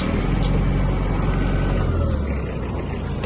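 A Mitsubishi MT-246 Japanese mini tractor moves off in first gear with its tiller raised, its engine a loud, steady close-up rumble that holds an even pitch throughout.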